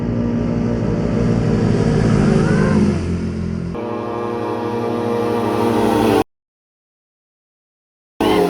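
A loud carbureted vehicle engine on a bypass road at night revs hard and steadily, drops briefly in pitch, then roars again before cutting to silence and a brief return.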